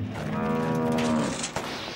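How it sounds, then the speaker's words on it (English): A cartoon tractor's broken-down car gives a long, loud mooing sound like a cow, a single sustained low moo that fades at the end, heard on its own without speech. "the car is making mooing noises"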